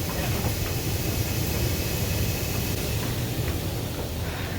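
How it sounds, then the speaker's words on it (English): A steady, dense roar fills the stack of a sap evaporator's firebox: broadband whooshing flame noise with a low rumble, continuous and even throughout with no voices. "I can hear the flames up in the smokestack"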